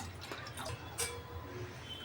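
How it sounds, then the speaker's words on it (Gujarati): Cold water is poured into sugar syrup for an instant milk sharbat, a short, faint trickle with a few splashy drips. "અડધો કપ આમાં ઠંડુ પાણી ઉમેરીશ ને અડધો કપ આમાં"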